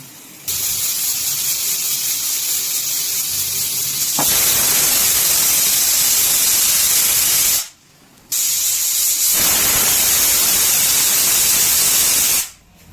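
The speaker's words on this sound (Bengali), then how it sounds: "আর সিটিও দেখুন এখানে হব হব করছে" A pressure cooker cooking mutton biryani hisses in loud, steady bursts of steam, broken by two short pauses, the whistle building up close by with no talk.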